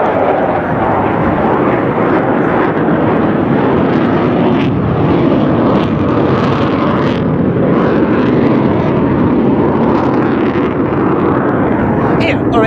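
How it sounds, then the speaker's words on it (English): A Eurofighter Typhoon jet flies at the NATO Days and Czech Air Force Days air show, its loud, steady broadband roar filling the whole stretch without a break, with a commentator's voice partly audible beneath the engine noise. "the Typhoon can reach Mach 2 and sustain supersonic speeds even without afterburners"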